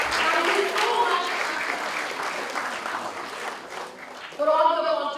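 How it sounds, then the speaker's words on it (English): Sustained crowd applause at a national moot court valedictory ceremony fills most of the moment, fading slightly before a person starts talking near the end. "A big round of applause."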